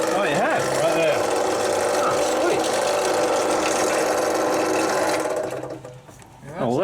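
A drill boring through wood with a small drill bit, a loud continuous grinding whir that rises and dips in pitch, then winds down and stops near the end, with voices faintly around it.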